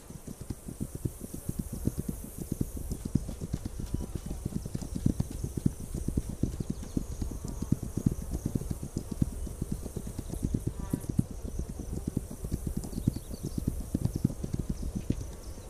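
Steady, rapid clip-clop of horse hooves in the video game This Land Is My Land, a continuous even gallop rhythm over faint wind ambience, fairly loud and close.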